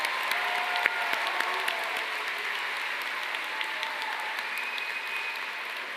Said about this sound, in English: Let's give a huge round of applause to our name readers.